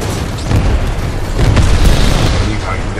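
Heavy booming weapon fire and explosions in the Titanfall 2 game, Predator Cannon, loud sustained rumbling blasts that fill the whole stretch.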